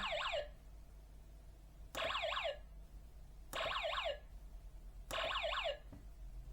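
An electronic sound effect from a Boffin II electronics kit project plays four repeated bursts, each a fast warbling falling chirp, about 1.5 seconds apart with short gaps in between, close and clear.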